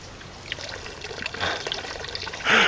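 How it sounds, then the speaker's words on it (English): Water leaking from a crack in the neck of a pony figure, a faint trickle and drip that ends in a louder splashing burst, heard close by with no talking. "So this pony has got a crack in his neck and the water leaks."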